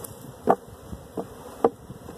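Honey bees on a busy hive colony buzz in brief close passes, three or four short droning swells over a low background hum.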